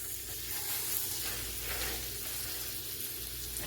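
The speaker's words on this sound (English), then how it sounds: "We're going to let it fry for about 4 minutes aside" Pork roast frying in oil in a non-stick skillet, a loud, continuous crackling sizzle with a bright hiss that holds steady throughout, close up and with no voices.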